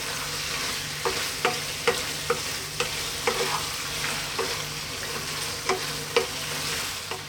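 Penne pasta stirred through a mushroom cream tomato sauce in a pan, a constant soft sizzle broken by repeated scraping, clacking knocks of the spoon at an uneven rhythm.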